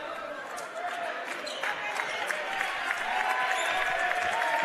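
Home fans in a high school gym cheer a boys' varsity basketball game, a moderate, sustained roar of voices rising slightly over a few seconds beneath a play-by-play announcer talking.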